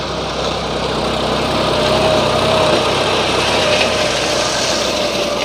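A John Deere 5055E tractor with a 12x12 gearbox runs at a steady, loud drone. The engine noise is even and unbroken for several seconds, heard up close with no talking.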